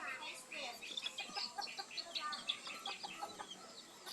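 Silver Sebright fancy bantam chickens, a pair with the hen laying eggs, cluck and chirp softly in a repeating, scattered pattern, mid-distance, with faint background noise and no clear voices.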